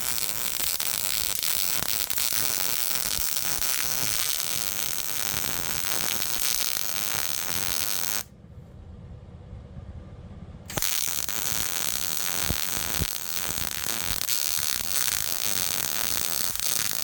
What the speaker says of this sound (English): Trying to weld it without stopping